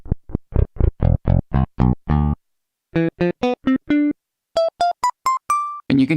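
An auto-sampled VST key group played on an Akai MPC Live III: a run of short, bright synth notes stepping through pitches, then a pause and a higher, cleaner sequence of staccato tones, loud and close with no talking.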